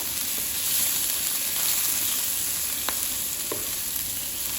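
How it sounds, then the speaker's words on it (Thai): Shrimp pan-frying in a little oil, a steady soft sizzle and hiss with a few faint clicks of a utensil, fairly close and without talk. "จีกุ้งให้แห้งๆเรียกว่าจีใส่น้ำมันไม่เยอะ"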